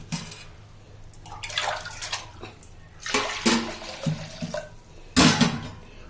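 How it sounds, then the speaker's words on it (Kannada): Water is poured from a jug while making a summer drink, heard as irregular splashing gushes that swell and fade, ending in a louder close pour, with no talk. "ಒಂದು ಜಗ್ಗಿನಷ್ಟು ನೀರು ಹಾಕ್ತೀನಿ"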